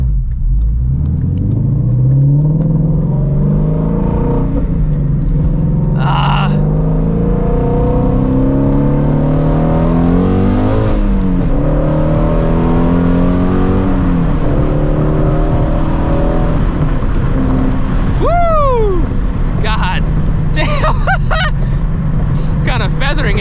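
A Shelby GT350 with catless long tube headers, an X pipe and E85 fuel drives through Houston traffic, its loud, close engine note climbing and falling through the gears in a continuous throaty drone, with a few sharp chirps near the end.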